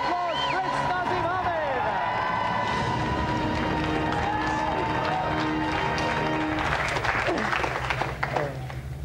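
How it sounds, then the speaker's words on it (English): A television studio audience applauds and cheers for undefeated European bantamweight boxing champion Prince Naseem Hamed, a dense, sustained burst of clapping with whoops that carries on throughout, with a voice heard over it. "So let's give another round of applause."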